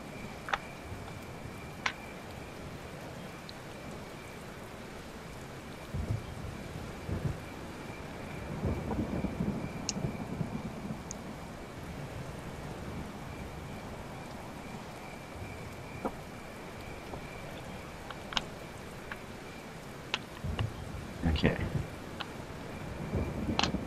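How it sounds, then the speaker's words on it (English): Steady rain and rolling thunder from a stormy night in the video game Kingdom, a constant wash of rainfall with several low rumbles and sharper cracks scattered throughout, all fairly loud and without spoken voices. "Hopefully it stops raining."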